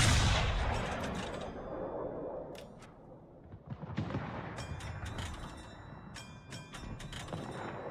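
Warship guns firing armor-piercing shells in World of Warships, a heavy opening blast that decays into rumble, followed by several sharp, close impacts and mechanical clanks scattered through the rest.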